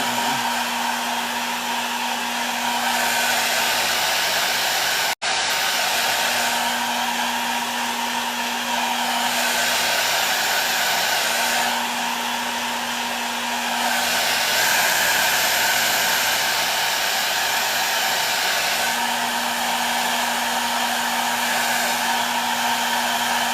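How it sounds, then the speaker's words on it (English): A blow dryer runs steadily close by, a loud, even whirring roar that rises and falls slightly in slow cycles, broken once by a sharp click. "I got a real blow dryer this time. So let's see how this works."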